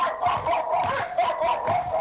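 A dog barks rapidly and continuously over two seconds, a close, loud run of sharp barks with no break.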